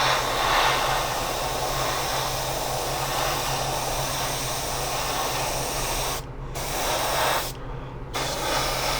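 An airbrush with a 0.5 mm tip, running at 25 PSI, sprays paint onto a 1/25-scale 1962 Ford Thunderbird model car in a steady close hiss, with two brief pauses near the end before it resumes.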